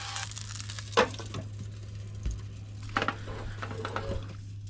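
Red snapper sears slowly in a pan inside a campervan, giving a steady close sizzle with a few sharp clinks and taps from the pan or utensils.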